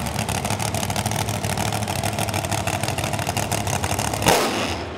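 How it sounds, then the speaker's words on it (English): A drag racing car idling in a parade, with a loud, lumpy engine idle pulsing in a rapid, steady rhythm, close by, then a brief louder burst near the end, with no talking. "This looks like a drag racing car right here."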